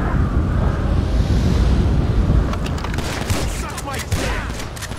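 Shotgun gunfire during a winter police patrol in GTA V, a dense rumbling barrage of blasts layered with wind-like noise, with sharper cracks breaking through in the later seconds.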